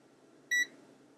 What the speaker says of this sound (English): you can hold the mode switch down, turn it on, it beeps at you